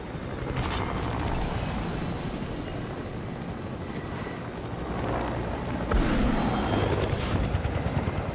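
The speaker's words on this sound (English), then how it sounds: "having a helicopter that I can, like, fly over everything with" A helicopter in the Fortnite Chapter 2 video game whirs and drones steadily, loud and close, with rotor and engine noise and a louder surge partway through, with no talking.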